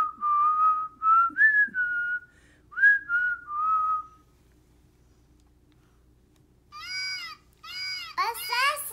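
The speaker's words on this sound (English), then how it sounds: "He's whistling." A zookeeper at a zoo whistles in wavering, sliding phrases, clear and fairly close, followed by a pause and then a voice.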